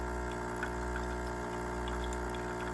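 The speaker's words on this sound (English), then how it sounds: "especially with an espresso machine, I'm just gonna fill the cup" A DeLonghi ECP espresso machine pumps water through during descaling, a steady, close mechanical hum and drone that runs unbroken with no talking.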